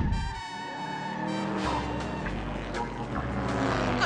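A cartoon race car speeds along a track, its engine whining and revving loudly with skidding, tire-squealing streaks over a continuous roar, set against an animated soundtrack.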